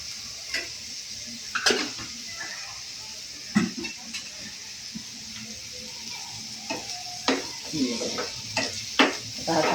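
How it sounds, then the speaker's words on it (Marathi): Chopped onion fries in hot oil in a pan for paneer bhurji, a steady sizzle broken by intermittent scraping and clinks of a spoon stirring against the pan. "आता हा कांदा जरा चांगला भाजून घ्यायचा आहे."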